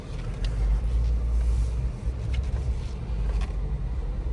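A 2017 Jeep's engine idles and rumbles steadily at close range while backing up across an open section of a car lot, with a low, continuous drone and no voices.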